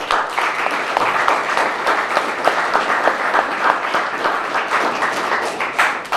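Audience applause at a book signing, a close, lively patter of many hands clapping with distinct individual claps standing out, steady and fairly loud for about six seconds.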